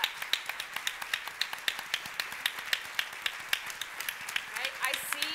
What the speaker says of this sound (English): for folks sitting, please applaud our resilience